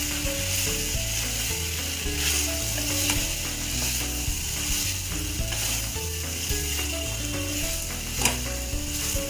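Readymade sambar masala is stirred into vegetables frying in a pan, a continuous close sizzle with occasional scraping clicks under steady background tones.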